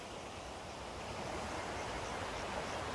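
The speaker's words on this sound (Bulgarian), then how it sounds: "Реката шуми." A river rushes steadily during an outdoor picnic by the water, a dense, continuous broadband roar of flowing water at constant loudness with no voices over it.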